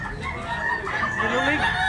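A young gamecock (stag) crowing close by, one loud strained crow rising and wavering over about two seconds, with clucking from other fowl around it.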